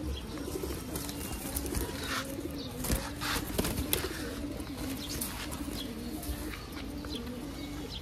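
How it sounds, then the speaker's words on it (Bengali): An Army Blood pigeon cooing in a loft: low, repeated rolling coos, close and steady throughout, with soft chirps and occasional wing flutters from other birds in the background. "এই দেখেন ভাই একটা কবুতর"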